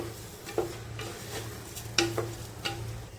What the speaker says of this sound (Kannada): ಅಕ್ಕಿನ ಸತ ಚೆನ್ನಾಗಿ ಈ ಮಸಾಲ ಜೊತೆ ಮಿಕ್ಸ್ ಆಗೋ ಥರ 1-2 ನಿಮಿಷ ಹಂಗೆ ಫ್ರೈ ಮಾಡ್ಕೊಳ್ತೀನಿ.